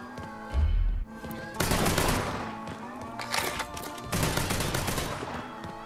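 Gunfire in the video game Mafia III crackles in several rapid automatic bursts, loud and sharp, one after another over a few seconds with a low thump near the start.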